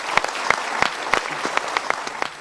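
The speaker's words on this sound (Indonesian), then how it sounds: "kita berikan tepuk tangan dulu" Studio audience at an Indonesian talk show breaks into applause, with distinct claps spread through a steady wash of clapping, fairly close and alone with no talk over it.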